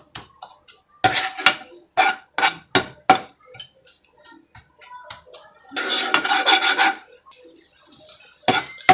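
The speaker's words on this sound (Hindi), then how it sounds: "और इसे बीच बीच में चलाते रहेंगे ताकि अंडा सटे ना" A spatula scrapes and clinks against a pan as egg bhujiya is stirred and fried, with repeated close metallic knocks in short bursts and a longer stretch of steady scraping.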